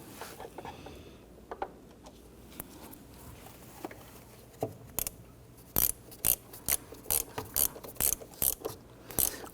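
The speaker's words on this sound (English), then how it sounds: "It's going to save some time when you go to put your ratchet on there to snug that down." A ratchet snugs down thermostat housing bolts on a 2017-2020 Hyundai Elantra 2.0L, a quiet run of rapid clicking strokes that grows into a crisp, rhythmic series of sharp ratchet clicks close by.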